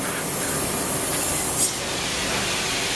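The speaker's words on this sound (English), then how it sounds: "Show it spraying full time again." A Steambrite Clean Storm carpet cleaner with a 1750-watt heater sprays hot water from a brass nozzle in a steady, loud hiss that shifts slightly partway through, with no talking.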